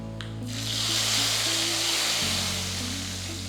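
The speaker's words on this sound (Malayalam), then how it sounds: "ഈ ചൂട് മിക്സ്ചർ നമ്മുടെ ഈ കറിയിലേക്ക് ഒഴിക്കാം" A hot tempering mixture with curry leaves is poured into a breadfruit curry, a sudden burst of sizzling that swells into a loud, steady hiss, then eases slightly, over a low electrical hum.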